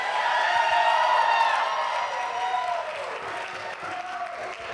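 Guests at a wedding reception applaud, continuous clapping with some cheering and a whoop, carried over tonal background music that fades slightly toward the end.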